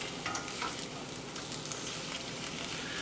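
An egg fries in a pan on medium-high heat, giving a steady, close crackling sizzle with no talk.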